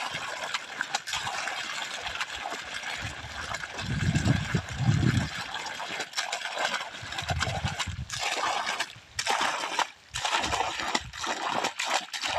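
A 5 HP solar submersible pump on a 320-foot borewell, set at 270 feet, pushes a steady, loud rush of gushing water from its outlet pipe. The splashing swells and dips over the whole stretch, with no talking.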